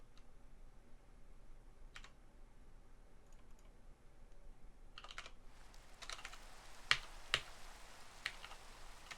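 Computer keys clack in scattered bursts, with a few sharper, louder clicks near the end. The sound is quiet and close against faint background hiss.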